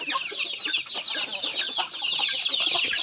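A flock of native chickens clucks busily in a pen, dense overlapping clucks and chatter that keep up at an even, close level for the whole stretch.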